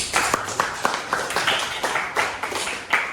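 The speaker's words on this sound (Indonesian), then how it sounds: "mari kita tepuk tangan dulu" A small group of students in a classroom clap in a loose, fairly regular rhythm after a group presentation, with distinct, moderately quiet claps spaced evenly throughout.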